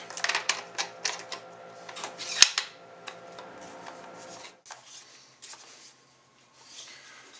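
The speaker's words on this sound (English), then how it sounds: "So when you go ahead and pull the bolt, you just go ahead and push this button and your bolt comes out." A Howa M-1500 heavy stainless rifle's bolt is pulled back and removed, giving a quick run of close, crisp metallic clicks and slides that fade into quiet handling noises.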